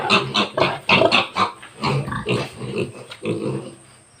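A mother pig in a pen grunts repeatedly at close range, a run of loud, rough, irregular grunts and snorts with short gaps between them and no talking.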